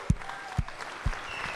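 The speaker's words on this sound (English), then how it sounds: "Y'all give these pages a big round of applause." Applause in the Georgia Senate chamber for the pages on Crossover Day, heard as three sharp, separate claps about half a second apart in a quiet room.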